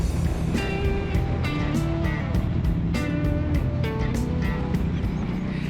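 A Harley-Davidson X440 single-cylinder air-cooled motorcycle engine running at a loud, steady drone with a fast rhythmic pulse, continuous throughout and close up.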